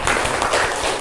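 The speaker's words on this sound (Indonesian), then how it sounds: "Beri tepuk tangan untuk Laila" A classroom of students claps for a classmate, a loud, close burst of many hands that lasts about a second.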